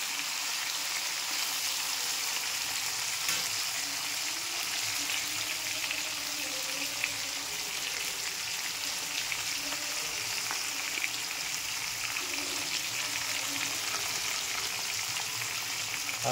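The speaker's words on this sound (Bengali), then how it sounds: "প্রচুর তেল বেরোচ্ছে পাঙাশ মাছে" Pangas fish fries in plenty of oil, releasing its own fat, with a continuous fine crackling sizzle that stays even and moderately close throughout.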